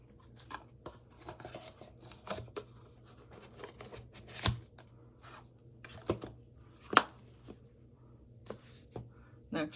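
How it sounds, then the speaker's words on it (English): A Pagan Otherworlds tarot deck by Uzi, soft and silky to the touch, is riffled and shuffled in irregular bursts of crisp card flutter and soft rubbing, close and fairly quiet. "Love the way it shuffles."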